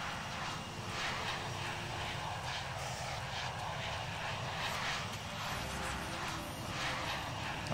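An airplane engine hums steadily from a taxiing aircraft in the Infinite Flight game, a continuous moderate drone with a faint rhythmic propeller-like pulse throughout.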